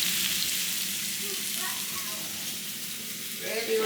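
A stir fry with garlic sizzling in a pan, a steady bright hiss of frying that runs throughout with faint stirring clatter near the end.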